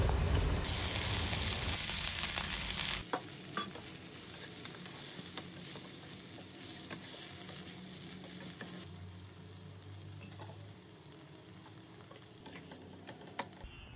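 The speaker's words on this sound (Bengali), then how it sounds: "কড়ার মধ্যে সর্ষের তেল, 5 ফোড়ন, কাঁচা পেঁয়াজ, কাঁচা লঙ্কা, তারপর একটু বেগুনটা ভালো করে ভাজা ভাজা হয়ে গেলে" Eggplant fries in mustard oil in a wok with five-spice, raw onion and green chilli. A loud, dense sizzle in the first few seconds settles into a steadier crackling hiss with occasional pops and no talk.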